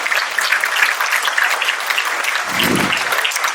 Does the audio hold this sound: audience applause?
yes